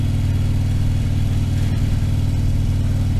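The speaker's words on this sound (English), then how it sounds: "I noticed this bike needs to be warmed up a bit more than" A motorcycle engine with a fairly large displacement idles steadily while warming up, a loud, continuous low rumble with a regular pulsing beat close by and no voices.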